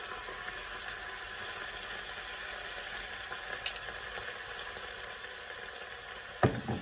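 Port poured into a hot pan for deglazing while making apricot chicken, giving a steady bright sizzle and bubbling throughout, with a brief louder splash near the end.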